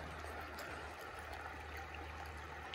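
A swollen creek runs outdoors after high water, giving a soft, continuous rushing and trickling with faint gurgles, distant and low in level with no voices.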